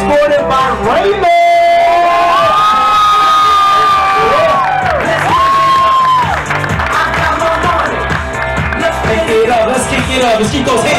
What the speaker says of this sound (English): Let's keep those hands clap, come on.